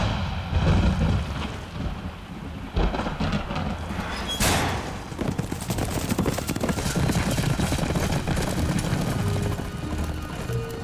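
A racehorse runs flat out through heavy rain, its hooves thudding under a constant wash of downpour, with a sharp crack like thunder midway and busy rumbling throughout.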